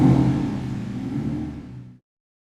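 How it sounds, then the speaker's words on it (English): A Ferrari pulls up with a low, rumbling engine that fades over about two seconds before cutting off abruptly, heard alone at moderate distance. "That's the Ferrari pulling up."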